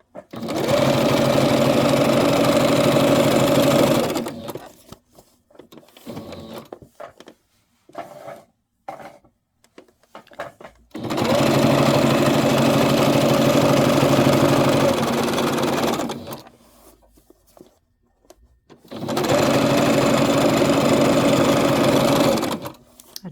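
A sewing machine runs a straight stitch in three long bursts of steady, whirring, rattling drive, separated by quieter pauses filled with small handling clicks and rustles.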